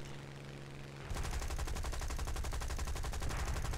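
Machine guns on a Spitfire Mk.I fighter plane in the War Thunder game fire a sustained rapid burst of rattling shots over the steady drone of the engine, starting about a second in and continuing to the end.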